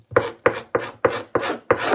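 A scraping tool drags across fish skin to strip flesh in six quick, even strokes, each a rough rasping scrape about a third of a second apart, close and clear with no voices.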